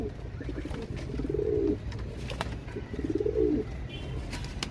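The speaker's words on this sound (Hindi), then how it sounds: "संदूरी पैक के कबूतर" Danish pigeons coo twice in low, rolling calls, close by, over a noisy background with faint chirps.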